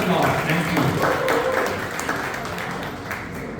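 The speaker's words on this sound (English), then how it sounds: "Huge round of applause" An audience claps at a Toastmasters meeting, a brief burst of dense applause that starts strong and gradually thins, mixed with some voices.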